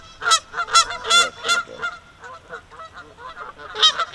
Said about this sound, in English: Oh, don't upset them geese.